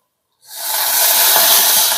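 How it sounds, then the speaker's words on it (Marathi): Water splashed into a hot pan of egg bhurji bursts into a loud, steady hiss and sizzle that starts suddenly and keeps going, heard alone without talk. "आता आपण ह्याच्यामध्ये पाणी टाकून देऊया"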